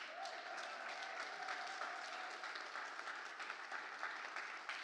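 Steady, dense audience applause at an investment summit finale for the companies that pitched, many hands clapping continuously at a moderate distance with no talk over it.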